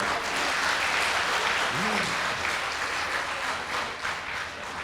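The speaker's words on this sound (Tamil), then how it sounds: "காஞ்சிபுரத்தில் யாருமே கைதட்டுறது இல்லையா?" An audience at a public talk in Kanchipuram breaks into sustained, even applause. Many hands clap close by in a thick, steady wash with a brief voice under it.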